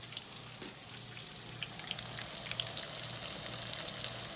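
A rainbow trout fillet seasoned with lemon pepper fries quietly in a pan, giving a soft, steady sizzle and crackle that runs on without any voices.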